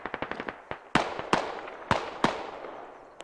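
A frag grenade detonates in the military shooter Squad, heard as a burst of sharp crackling blasts: quick small pops at first, then several louder booming cracks spaced about a second apart.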